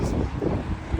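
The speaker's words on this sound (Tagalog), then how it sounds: "Ang lakas ng hangin," Strong wind buffets the microphone in a steady, loud rush with gusty swells during a trip through a flooded area, with no speech heard.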